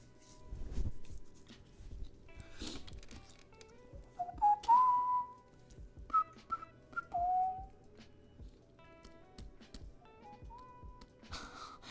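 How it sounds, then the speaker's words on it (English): A person whistles a wandering, melodic tune softly at close range, with short sliding notes broken by pauses, breaths and small desk noises, no talking. "I got my whistle going"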